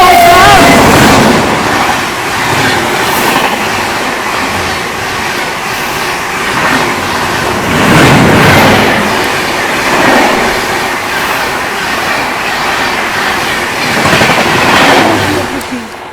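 The 19418 ADI-BVI Express pulls out and runs along the rails, a loud, close rumble of wheels with rhythmic clickety-clack surges that swell and fade over and over.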